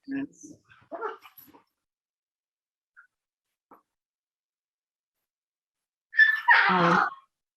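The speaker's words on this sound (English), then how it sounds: "we got our dog a dog, so they're wrestling" Two dogs wrestling at home, giving short yips and whimpers at the start and a louder burst of barking and growling near the end, with quiet gaps between.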